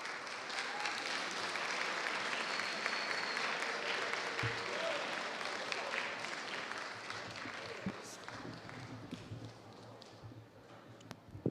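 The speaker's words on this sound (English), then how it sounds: "let's give those students a better round of applause than that." A crowd at a university building topping-off ceremony applauds the students, a long, even wash of clapping that slowly thins toward the end, with scattered voices mixed in.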